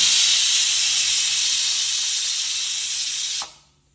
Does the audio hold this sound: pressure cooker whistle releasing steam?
yes